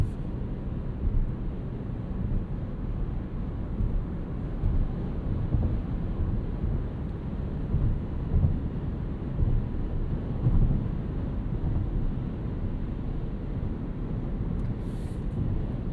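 Cabin of a 2026 Toyota RAV4 Hybrid driving in the evening, a constant low road and wind rumble with faint surges, even and enclosed, with no talking.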